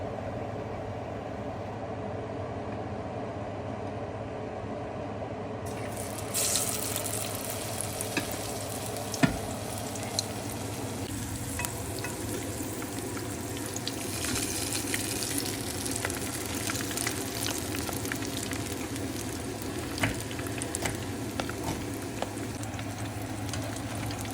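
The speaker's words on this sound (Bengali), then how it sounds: "সো এখন ফ্রাই করার টাইম" Battered jalapeño peppers stuffed with filling fry in hot oil, a sustained bubbling sizzle that grows fuller after a few seconds, with occasional sharp utensil knocks and no talking.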